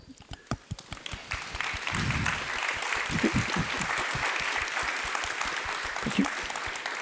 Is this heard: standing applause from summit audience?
yes